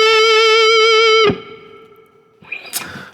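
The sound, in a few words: distorted electric guitar pentatonic rock ballad lick played slowly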